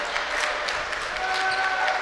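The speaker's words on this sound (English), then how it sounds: "Boomer crowd getting into it with the rhythmic clapping." Home crowd at a high school basketball game clapping in unison during free throws, a steady rhythmic patter filling a gym amid general crowd noise.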